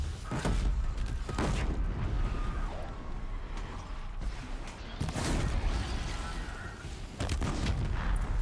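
Combat against a flying machine in Horizon Zero Dawn, with several loud impact bursts and booms scattered among a dense, busy mix of game sounds.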